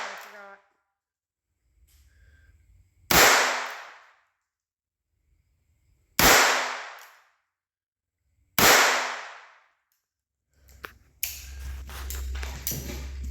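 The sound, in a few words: gunshots from Walther .22 pistols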